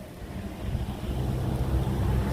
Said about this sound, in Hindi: और ये ठंडी हवा चल रही है।